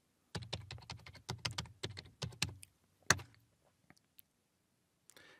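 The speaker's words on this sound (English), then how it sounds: "So I'm going to type install module, PowerShell AI." Rapid keystrokes on a computer keyboard typing a PowerShell install command, a quick run of close, crisp clicks followed by a few scattered taps and a final key press in a quiet room.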